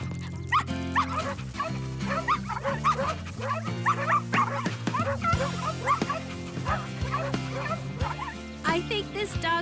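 Cartoon dogs in a dog park yip, whimper and bark in quick, overlapping bursts against a backdrop of music, with lively chatter from characters woven throughout.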